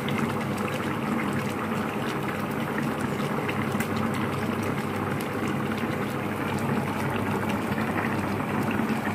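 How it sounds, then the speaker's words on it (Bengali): A pot of tengra fish curry bubbles at a steady simmer with coriander leaves added, a continuous dense boiling wash with no break and no voices. "মাছগুলো দিয়ে তোমার ভালো করে ফুটিয়ে নিয়েছি, এবার নামানোর আগে তোমার ভালো করে পরিমাণ মতো ধনে পাতা দিয়ে দিলাম,"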